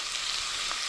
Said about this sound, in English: once our onion, garlic and chili's been sauteing away there for a few minutes